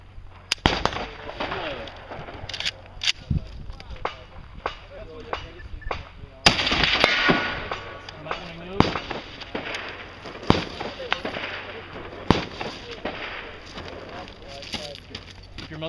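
Rifle shots crack out at targets during an outdoor practical rifle match, a string of loud sharp reports spaced a second or two apart, each with a short echoing tail, while people talk between and over the shots.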